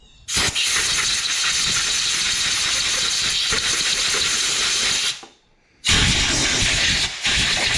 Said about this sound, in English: let me get the air hose and some WD-40